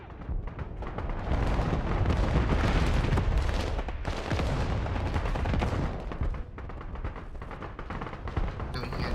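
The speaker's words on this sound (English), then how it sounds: "Artillery on the move." Artillery fire in the video game Broken Arrow: loud, dense volleys of booms and gunfire that roll on for several seconds as a sustained barrage, then ease slightly toward the end.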